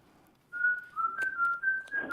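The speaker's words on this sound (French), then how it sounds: "Je ne reconnais pas l'air qui siffle" A person whistles a short, clear melody of several sustained notes with small pitch shifts. It is close and alone after a brief silence, with a faint noise near the end.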